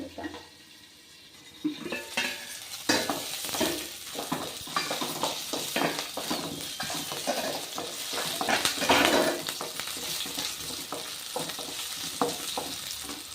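Oil heats in a pan while cooking pudina (mint) chutney. A short quiet start gives way to a loud, continuous sizzle with crackles and occasional utensil clatter.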